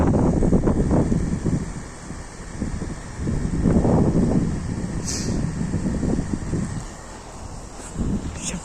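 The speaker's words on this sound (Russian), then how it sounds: "Посмотрите, какой ветер." Gusting wind of a heavy snow squall buffets the microphone in loud, uneven low-pitched rushes that swell and ease, with a faint voice briefly under it.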